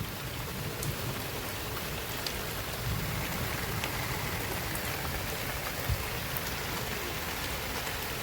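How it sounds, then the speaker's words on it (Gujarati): Heavy rain pours down steadily onto a farm water tank in Banaskantha, a dense, even downpour with continuous patter and no voices. "વરસાદ વધારે આવે ચાલુ થઈ ગયો છે અને ઉપરથી એકદમ ઘનઘોર છે વરસાદ"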